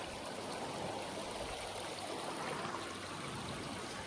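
A creek runs into Lake Michigan at a beach with a steady, even rush and trickle of water, continuous and moderately loud with no voices.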